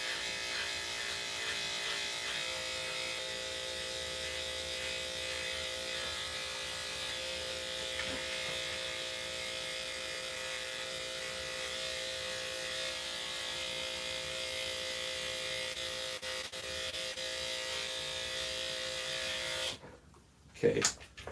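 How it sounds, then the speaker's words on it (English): Electric clippers fitted with a 30 blade shave the paw pads of a Havanese dog, a steady close buzzing drone that runs unbroken for about twenty seconds before cutting off with a few handling knocks. "go ahead and shave his pads with the 30 blade"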